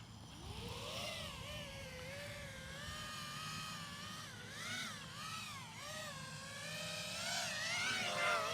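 A drone hovers nearby with a continuous whining motor buzz whose pitch wavers up and down as it holds position, steady and fairly close throughout.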